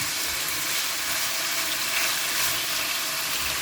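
Chicken pieces searing in a hot pan for creamy chicken and mushroom, a dense, even, close hiss of sizzling that holds steady throughout with no talking.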